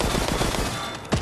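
Rapid bursts of automatic gunfire in the Resident Evil Resistance video game, loud and close, with several quick successive shots ending in a sharper blast.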